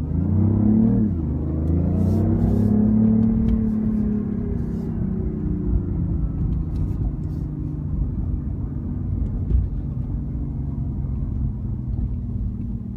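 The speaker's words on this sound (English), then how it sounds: "So once you put it in sport, the engine kicks in." BMW i8 engine in sport mode, a low rumbling drone that rises in pitch during acceleration and then settles into a steady cabin hum, close and continuous without speech.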